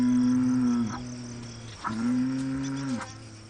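A bull lows in long, deep, droning moos, two sustained calls separated by a short breath, loud and close against a steady background hum of insects.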